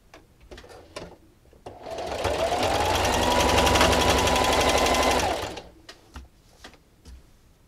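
A sewing machine stitches through fleece blanket fabric with a long 3.5 stitch length, running in one steady, loud, rapid whirring burst of about four seconds, with quiet handling clicks before and after.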